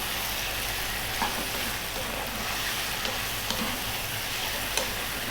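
Spoon stirring chili powder, turmeric, coriander and cumin into a sizzling chicken curry in a pan, a steady frying hiss with soft scraping and a few light taps close by, no talking.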